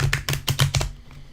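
A Modern Witch tarot deck is shuffled by hand in a quick run of about six crisp, close snapping taps, then falls quiet.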